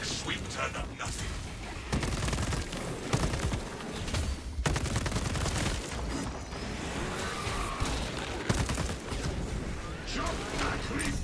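Video game gunfire comes in rapid bursts and scattered cracks amid game effects and a mechanical clatter, with a voice talking over the action at times.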